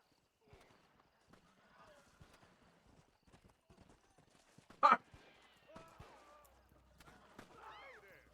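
In the video game Red Dead Redemption, a horse's hooves clip-clop in a faint, loose rhythm, with a brief sharp louder sound midway and soft calls and other game sounds scattered around.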